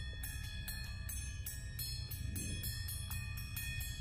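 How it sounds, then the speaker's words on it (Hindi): Regular metallic strikes of a school bell ring out about every third of a second over a steady low rumble at night, a continuous clanging ring with no voices. "इतनी रात को स्कूल की घंटी की आवाज कैसे आ सकती है?"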